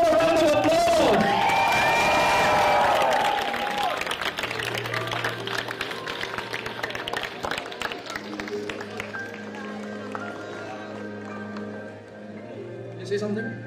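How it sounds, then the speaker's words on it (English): Applause from an audience at a cosplay chess game event in Singapore, scattered clapping and crowd noise under loud talk and music at first, thinning out into lighter, patchy claps. "Give them a round of applause."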